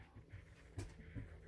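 A dog pants close by in quick, soft breaths, quiet and brief, with no other sound over it.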